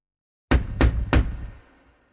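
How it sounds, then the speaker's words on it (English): Three loud, sharp knocks on a front door, evenly spaced and close by, each ringing briefly before silence returns. "Then 3 loud knocks."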